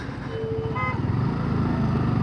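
A motorbike rides along a road, its steady engine drone and rumble continuous and fairly close throughout, with a short horn toot cutting in briefly near the start.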